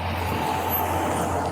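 A parked car's engine idles with a steady low hum, continuous and fairly close, with no voices.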